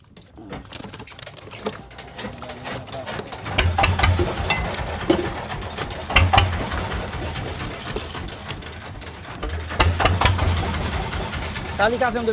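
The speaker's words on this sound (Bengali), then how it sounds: "আমাদের বোটের ইঞ্জিন বন্ধ হয়ে গেছে হঠাৎ করে তো এখন হচ্ছে আবার স্টার দিতে হবে" A fishing boat's stalled engine is cranked to restart, giving repeated low mechanical bursts and rattles that rise and fall in a few attempts, heard close on the water while people talk over it.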